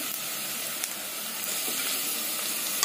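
Onion and ginger-garlic paste frying in a little oil for chicken biryani, a steady close sizzle and hiss running unbroken throughout with no talk.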